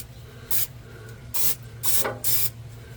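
PAM cooking spray hisses onto rusty parts of a disassembled Grand Champ XD grill in four short, close bursts separated by quiet gaps.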